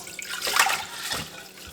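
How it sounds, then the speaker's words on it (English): Water from two cups of soaked rice pours and splashes briefly into a sink as it is drained, a soft gurgling rush that swells and then tapers to a few trickles. "I'm soaking this rice here. This is 2 cups of rice, so I'm going to drain this now."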